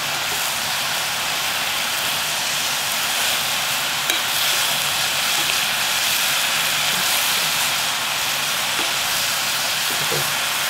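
Sliced radish stir-frying with salt in a pan, a steady close hiss and sizzle that runs unbroken throughout, with faint scraping as it is tossed.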